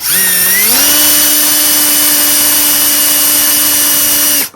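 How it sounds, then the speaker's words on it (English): A Milwaukee cordless drill driving screws into an electrical box whirs up to speed and holds a steady, loud, high motor whine for several seconds before stopping, very close. "I get my little Milwaukee drill, screw it into the box."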